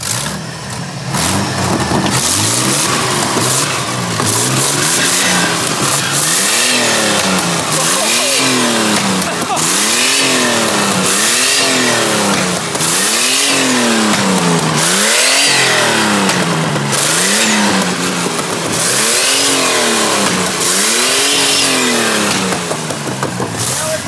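A twin-turbo Ford AU Falcon engine revs hard and repeatedly, with about eight rising-and-falling throttle sweeps in a steady rhythm, very loud and close, and a voice briefly heard over it.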